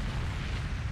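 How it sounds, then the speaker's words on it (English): A red barrel explodes in Resident Evil 4, a brief dense roaring blast of low, rumbling noise that fills the whole moment. "Now that explosion"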